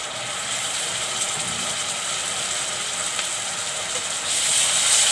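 Ginger garlic paste sizzles in a hot pan for chicken curry, a steady broadband hiss that swells louder near the end, with no talking.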